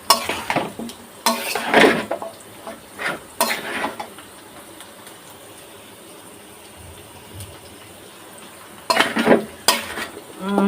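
A spoon scrapes and clatters in a pan while onions, ginger and garlic fry for chicken curry, with loud stirring bursts at the start and end and a quieter low sizzle filling the stretch between.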